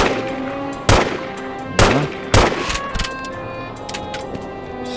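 Sharp gunshots in The Godfather video game, three loud, close cracks in quick succession followed by a softer fourth, with a brief spoken word in between.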